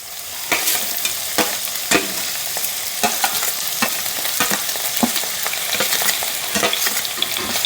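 Chopped onions and small shallots fry in hot coconut oil in a pan while being stirred, a steady close sizzle broken by regular scraping strokes of the spoon.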